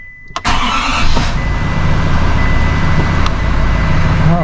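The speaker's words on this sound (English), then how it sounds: "start it up here, a little cold." A 2023 GM Duramax L5P diesel truck engine cranks and fires on a cold start, then settles into a loud, steady idle that fills the rest of the clip with no talk over it.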